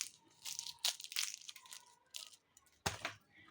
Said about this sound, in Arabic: مسمن معمر هو كيتبقى مقرمش